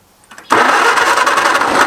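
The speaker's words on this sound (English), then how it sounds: "get this old Alice Chalmers fired up here" A brief crank then an old Allis-Chalmers tractor engine catches and roars to life, running loud and rough right up close.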